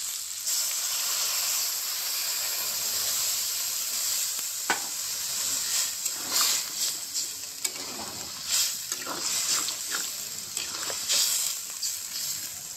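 Water poured into a pan of frying meat curry sets off a loud, continuous sizzle and hiss, with scattered crackles and stirring scrapes over the steady steam.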